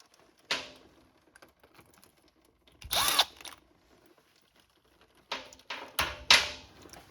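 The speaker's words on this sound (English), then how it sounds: "First step, cranking these bolts out." A power tool removes bolts from a 1964 Chrysler New Yorker Town and Country, with a short burst near three seconds, then several more bursts toward the end, close by, separated by quiet gaps.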